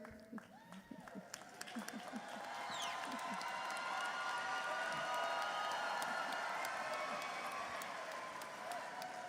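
Commencement audience clapping and cheering, a broad wash of applause with scattered whoops that swells after a couple of seconds and holds steady, heard from a distance in a large hall.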